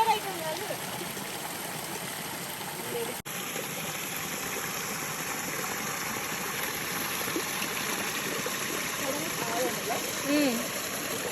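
Stream water flows steadily near a waterfall on a forest hike, a continuous broadband rush heard close and fairly loud, with faint voices talking underneath.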